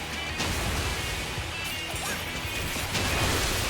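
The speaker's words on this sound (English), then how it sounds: "that thing again with the geysers that's smashing." Geysers in Final Fantasy XIV erupt in a dense, crashing burst of noise, a sustained roaring smash with sharper whooshing spikes near the start and end, loud and alone without talk.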